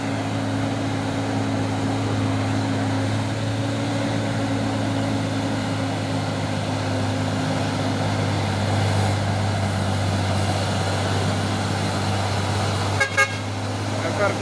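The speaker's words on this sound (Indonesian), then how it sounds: "Masuk lagi truk trailer kontainer Mercedes-Benz Azor Global Trans." A Mercedes-Benz Azor container trailer truck (Global Trans) rolls in with a loud, steady diesel drone and a sustained tonal horn blast, close by, with a short sharp toot near the end.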